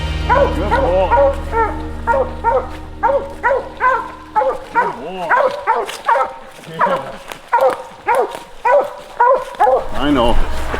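A Plott hound named Cowboy barks and bays repeatedly in rapid rhythmic bursts after treeing a raccoon, loud and close, with yips and whines mixed in and someone talking over parts of it.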